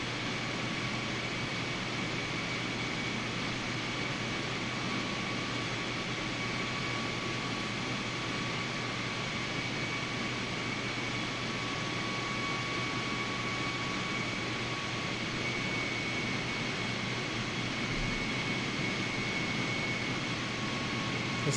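Airplane engine in Microsoft Flight Simulator climbing slowly, a steady unbroken drone with a thin sustained whine running alone throughout.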